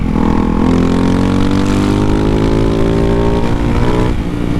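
A Ducati Hypermotard 698 Mono single-cylinder motorcycle engine revs loudly and close by, its pitch climbing steadily for several seconds toward about 10,250 RPM before easing off.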